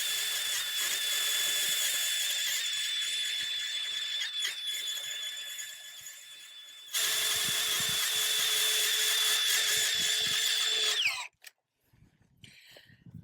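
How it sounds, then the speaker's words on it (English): A drill-powered tilther churns garden bed soil with a steady, loud whining drone that dips and surges, cuts out briefly near the middle, resumes, then winds down to quiet scuffing at the end. "we're going to run the tilther over the bed a couple of times, make it nice and smooth and flat"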